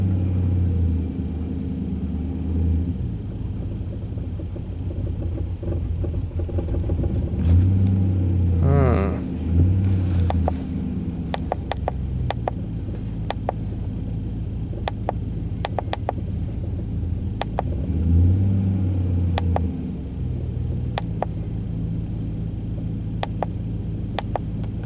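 A car engine idling with an apparent cylinder misfire, a low uneven rumble with irregular ticking and a couple of brief revs, steady and close, with some talk over it.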